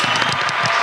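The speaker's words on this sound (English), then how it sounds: "Can I get a little round of applause?" A small podcast audience gives a brief, modest round of applause, a short burst of light clapping up close that fades within a second.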